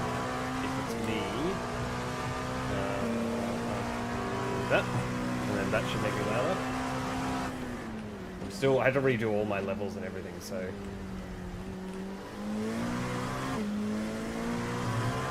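A race car engine in a Daytona racing video game drones steadily with shifting pitch throughout, running under continuous close talking, with brief surges of revving midway.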